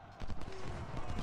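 Cavalry horses galloping in the Civil War strategy game Ultimate General: Civil War, a brief run of muffled, rapid hoofbeats over a dense rumbling background.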